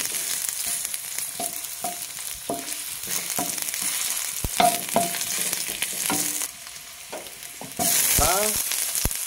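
Ginger and other aromatics sizzle steadily in a hot pan for sinigang, with a spatula clinking and scraping against the metal throughout and a louder burst of frying near the end; no one speaks.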